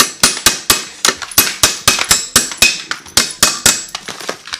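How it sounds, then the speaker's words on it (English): A hammer strikes the sliders of a Braum racing bucket seat again and again, about three sharp metallic blows per second, loud and close, with no voice. "so you can just use a hammer. Just hammer it in,"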